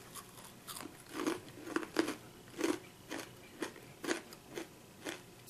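Garlic Parmesan pretzel bites crunch between the teeth in a steady series of about ten crisp bites and chews, close and fairly quiet, with no talking.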